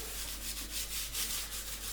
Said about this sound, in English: I'm actually going to give my hands a little rub